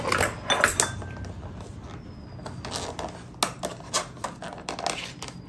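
Utensils clatter and clink against dishes in uneven bursts while mutton chaap is poured out, with a few sharper knocks near the end, moderately close and with no talking.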